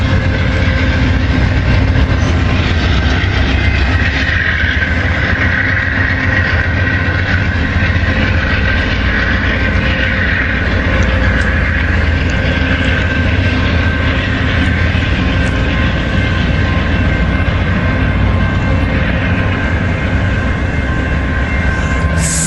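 Amtrak passenger train of Amfleet I cars rolling past in Southern California, a loud, steady, continuous rumble and wheel roar sustained throughout without a break.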